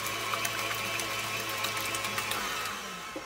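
An electric mixer whirs continuously at a steady pitch while eggs are beaten into batter, a close, even motor drone.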